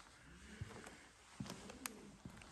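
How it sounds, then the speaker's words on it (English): Pigeons coo faintly in the rotunda of an abandoned mansion, several soft, low calls spaced irregularly against a quiet hiss of room noise. "watch out for the pigeons"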